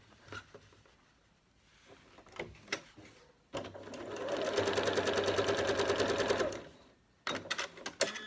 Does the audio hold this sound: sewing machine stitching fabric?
yes